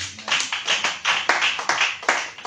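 A congregation at a night spiritual warfare prayer vigil applauds the Lord, a loud, close, rhythmic burst of many hands clapping in quick steady beats, with no voices over it.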